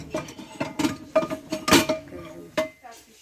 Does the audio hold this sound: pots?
yes